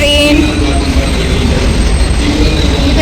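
A train carrying army vehicles rumbles along with a steady low roar and rattling, close and loud, with faint tonal squeals over the noise.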